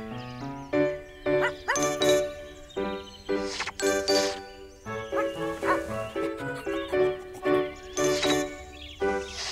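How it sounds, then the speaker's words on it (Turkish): Dogs bark in a repeated, rhythmic series of clear, close barks set against bright musical tones, a cartoon-style sequence from a children's animal show. "Köpekler havlar."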